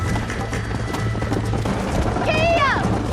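Horse galloping hard in a race in Red Dead Redemption 2, rapid hoofbeats under a rider's voice and game sounds, with a short whistling tone near the end.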